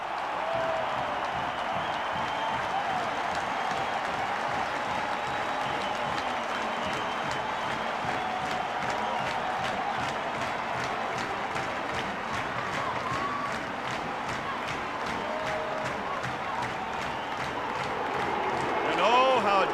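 A sellout crowd at Neyland Stadium roars through a Georgia versus Tennessee college football game, a dense, sustained wall of cheering and clapping, with an announcer talking over it.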